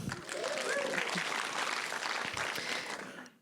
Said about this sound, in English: clap for it now